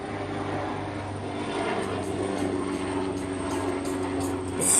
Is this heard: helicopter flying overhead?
yes